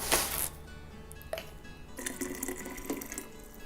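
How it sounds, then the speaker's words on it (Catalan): Water is poured into a yerba mate gourd fitted with a metal bombilla, a short splashing burst followed by quieter intermittent trickling and clinking close by. "Ara ficamos aigua"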